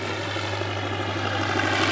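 A Fieseler Storch aeroplane's propeller engine drones steadily in a flat turn during an air display at Old Warden, a continuous airborne hum with a low steady tone, fairly distant.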